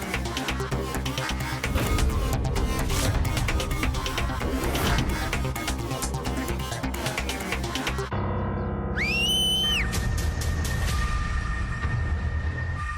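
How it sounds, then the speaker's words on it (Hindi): A whistle blown beside a swimming pool at a gathering, heard as a brief rising then steady shrill tone that cuts loudly through dense music and commotion. "ये सीटी किसने बजाई?"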